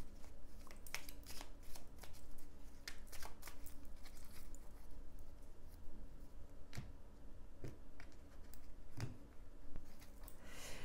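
Tarot cards shuffled and laid out during a monthly astrology card reading, a steady soft riffling and clicking of cards throughout, with a few sharper snaps of cards set down, close and moderately quiet.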